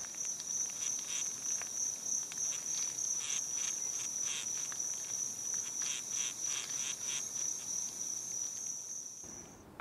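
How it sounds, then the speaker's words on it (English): A digging wasp stridulating its abdomen or wings near a burrow, giving a steady high-pitched buzzing whine with rapid pulsed chirps repeating in bursts, fairly close and alone against quiet outdoor background, cutting off near the end. "think the wasp is actually making this noise by stridulating parts of its abdomen or its wings."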